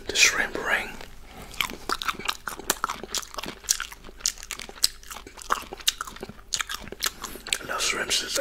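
Close, crunchy biting and chewing of a shrimp cocktail ring eaten for ASMR, with repeated sharp crunches and wet mouth sounds in an irregular rhythm.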